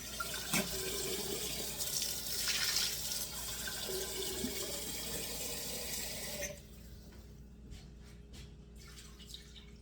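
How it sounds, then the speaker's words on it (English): Tap water pouring into a pot of beef stew, a loud close gushing stream with drips and splashes that cuts off abruptly, leaving quieter room noise and a few faint clinks. "I'm going to add some more water to it because it is a stew that I'm making"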